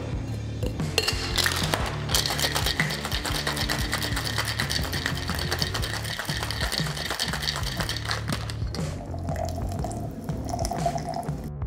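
A cocktail shaker filled with ice and spirits including Cointreau, shaken hard for a long Island iced tea: a dense, continuous rattling and clatter of ice, loud and close, running steadily for several seconds.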